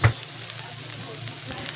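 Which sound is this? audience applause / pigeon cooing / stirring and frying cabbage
stirring and frying cabbage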